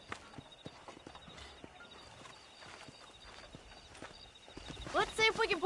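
Horse hooves clip-clopping at a walk in the Red Dead Redemption video game, soft irregular footfalls under quiet ambience, followed by someone speaking near the end.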